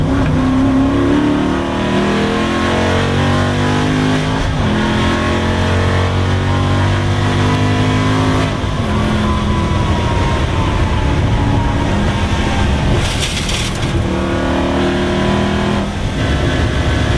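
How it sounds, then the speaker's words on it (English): An Aston Martin race car drives a wet Nürburgring lap, its engine roaring loud from inside the cabin, rising through the gears with pitch climbing and dropping at shifts and a steady hiss of spray beneath. "Just want to get used to the car, see what the Aston's like, see how it feels in the wet"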